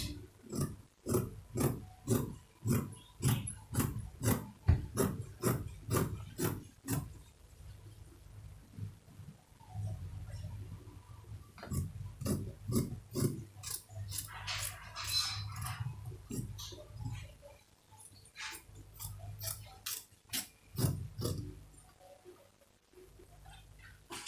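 Scissors snip through dress fabric in quick, regular cuts, a fast crisp rhythm of sharp clicks with short pauses between runs, fairly quiet and close.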